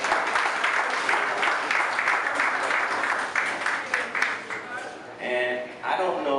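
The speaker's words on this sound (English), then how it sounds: "So let's give a round of applause to our new Alderman, Will Burns" An audience at a gallery gathering applauds a newly introduced alderman, a dense round of clapping that fades after a few seconds while people begin talking.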